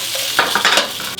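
Carrots and potatoes are tossed and turned in a hot frying pan, giving a loud, close sizzle with quick scraping and clattering bursts, heard without talking.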